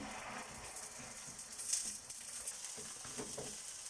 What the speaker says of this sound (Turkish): Birazcık da böyle kızarsın.